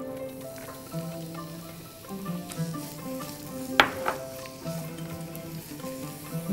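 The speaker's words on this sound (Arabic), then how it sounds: "هحط شوية زيت وهجيب البصل" Chopped onion frying in oil in a pan, giving a steady close sizzle over background music.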